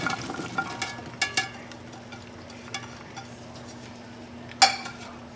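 Onions, carrots and celery being added to a pot of beef stew, with light clinks of utensils and pot, soft stirring and a faint sizzle, one sharper clank near the end.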